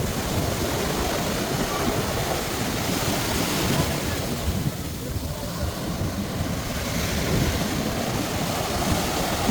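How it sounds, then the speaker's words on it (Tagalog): Strong ocean waves crash and roar continuously up close, with heavy wind noise over the surf. "Lakas alon."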